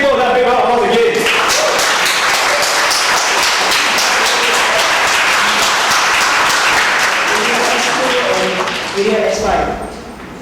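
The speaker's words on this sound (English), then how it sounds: "Can we just give a big round of applause again?" Loud, close audience applause at a Toastmasters club contest, many hands clapping in a thick steady burst, with a voice briefly audible at the start and the clapping dropping off near the end.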